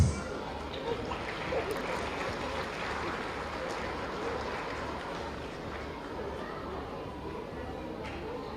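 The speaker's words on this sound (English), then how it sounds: "A huge round of applause, please." A school annual event audience breaks into sustained applause, a dense wash of many hands clapping that stays loud and even for several seconds after a brief opening burst.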